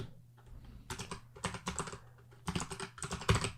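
Fingers type the mkdir command in a shell on a computer keyboard, close, crisp clicky keystrokes arriving in short quick bursts separated by brief pauses, with no voices.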